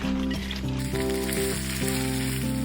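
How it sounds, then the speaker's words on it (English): Baby spinach sautés in a pan just used to cook bacon, a steady soft sizzle running beneath prominent background music throughout. "Using the same pan, sauté 2 cups of baby spinach until they are almost wilted."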